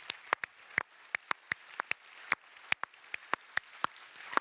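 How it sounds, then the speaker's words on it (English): Sparse, scattered claps from a small audience at a commerce technology conference in Europe: individual distinct hand claps at an uneven rhythm, fairly quiet and a bit distant, with no talking. "So let's give a round of applause for that"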